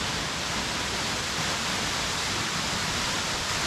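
A waterfall in a gorge roars as a constant, dense broadband rush of falling water, loud and close, with no voices over it.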